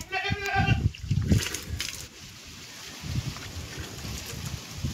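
Goats bleating in a rural village yard in hot sun, several short wavering calls in the first seconds with steady outdoor wind and faint background noise behind them.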